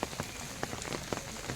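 Heavy rain falling at Uparkot Fort, Junagadh, a steady wash of rain on hard surfaces with distinct close drops splatting irregularly every few tenths of a second.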